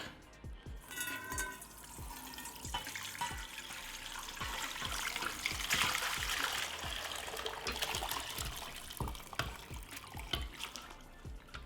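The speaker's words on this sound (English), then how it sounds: "I'm going to let this colander here just continue to drip into the Instant Pot" Vegetable stock drips and trickles through a colander into an Instant Pot below, a steady stream of close, irregular patters with occasional sharper drops, no talking.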